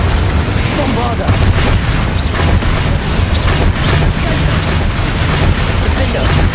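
Bombarda blasting spells go off in a Hogwarts Legacy duel, with loud, dense booms and crackling bursts that repeat without pause over several seconds of steady battle noise.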